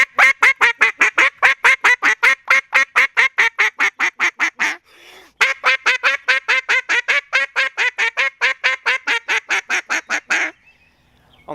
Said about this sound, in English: So now I'm gonna show you my comeback call.